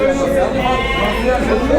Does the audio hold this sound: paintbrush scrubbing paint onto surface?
no